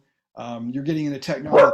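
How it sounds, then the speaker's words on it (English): A pet dog barks and whines indoors during a podcast recording, its short yelps mixed in with someone talking over them. "Sorry if you hear my dog barking."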